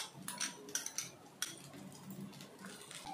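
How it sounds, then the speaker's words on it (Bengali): Chow mein noodles with chicken, soy sauce and tomato sauce being tossed in a pan, heard as faint, scattered clinks and taps of a utensil against metal over a quiet background. "এটাও ভালো করে মিশিয়ে নেব"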